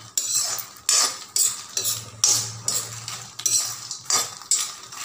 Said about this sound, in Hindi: मैं अपने मखाने को थोड़ा सा भून लूँगी